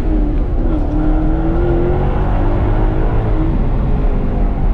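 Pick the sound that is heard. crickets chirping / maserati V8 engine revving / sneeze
maserati V8 engine revving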